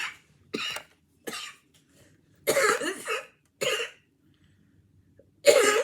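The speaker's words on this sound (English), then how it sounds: "I was about to cough" A person close to the mic coughs in a series of sharp, irregular bursts, some clustered together, with short silences between them.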